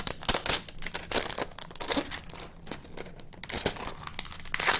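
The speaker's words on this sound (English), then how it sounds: "Go ahead and peel off the plastic." Protective plastic film is peeled off a new Nook tablet, a close crackling and crinkling with quick tearing bursts that come in uneven pulses, with no talking.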